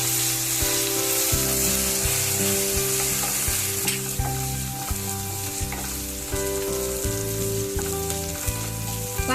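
Onion and ginger garlic paste sautéing in a pan for a Tamil thayir kurma, a loud steady sizzle throughout with a recurring low rhythmic tone, no talk.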